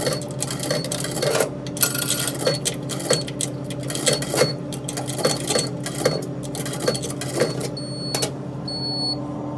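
Coins drop into a coin-operated laundry dryer at a Microtel Inn & Suites hotel, making scattered metallic clicks and clinks over a steady machine hum throughout.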